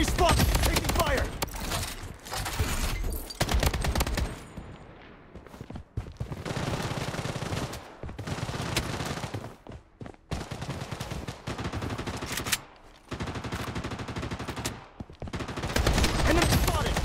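AK47 automatic fire in Blood Strike: loud, dense rattling bursts with short gaps between volleys, close and dominant, with game voice callouts mixed in.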